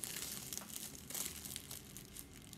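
A plastic bag crinkles close up as clay is flattened between its layers while making a teddy bear with a mould, a soft continuous rustling with small crackly bursts.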